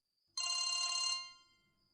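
A telephone bell rings in one bright burst lasting under a second, loud and near, then fades out into a quiet room.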